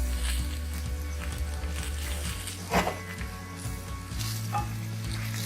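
Okra fries in a pan with coriander powder and raw mango powder being stirred in, giving a steady close sizzle with occasional scrape and stir sounds and no talking.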